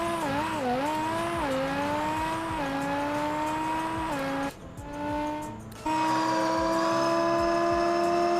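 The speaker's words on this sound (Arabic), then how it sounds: "صوت مميز طبعا وأداء رهيب لهذه السيارة" Modified car in the Car Parking Multiplayer 2 video game, its engine droning loudly and shifting pitch as it revs, broken by a brief sharp tire squeal before the engine returns steady and strong.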